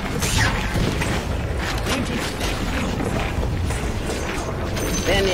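Tinker's Rearm ability in Dota 2 whirs and clanks with mechanical ratcheting, a dense, loud, steady grinding of gears amid game effects for several seconds.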